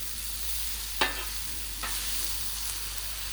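Mushrooms sizzle on a hot griddle with a steady, close hiss, broken by two sharp spatula scrapes or flips.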